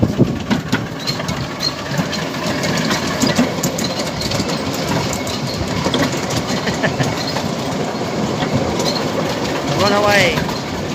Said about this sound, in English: Train's on its way in.